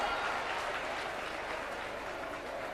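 Audience applause at a political address by Rajasthan Chief Minister Bhajanlal Sharma at a DBT transfer event: dense, continuous clapping from a crowd, fairly even and sustained throughout.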